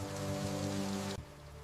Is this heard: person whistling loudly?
no